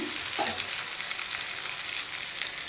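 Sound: frying pumpkin greens with sesame paste

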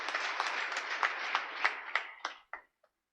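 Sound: applause

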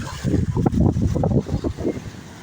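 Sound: strong wind at the seaside beach

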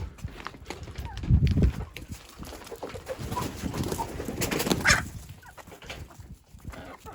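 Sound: chickens

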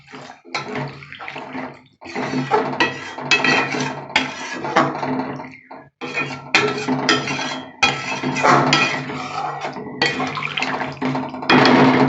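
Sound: hot water poured from a mug into the curry pot

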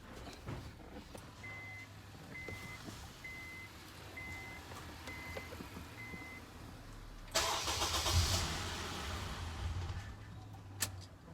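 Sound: car engine starting

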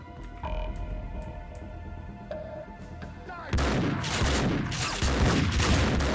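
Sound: gunfire in the video game Max Payne 2

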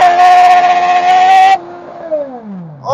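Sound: GSXR 1000 powered dwarf car accelerating

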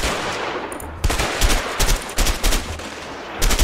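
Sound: gunfire from the video game A Way Out

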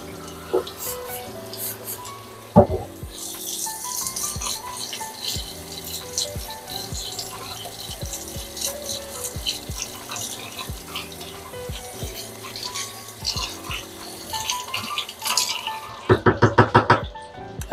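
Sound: washing kitchen items under running tap water

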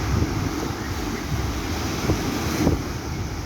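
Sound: waves and wind at the seaside

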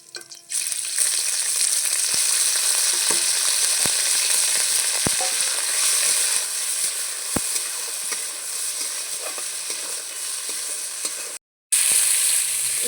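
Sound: chicken pieces frying with garlic in a pan

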